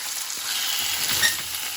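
Salmon fish frying in a pan gives a steady, close hiss of sizzling oil with a faint scrape or tap partway through, continuous and fairly loud throughout the short stretch.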